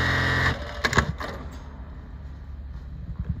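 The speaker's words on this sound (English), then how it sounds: "buttonhole industrial sewing machine" A New-Tech GC-783DT industrial buttonhole sewing machine runs with a steady mechanical hum that cuts off, followed by a few quick clicks and clacks and faint rattling.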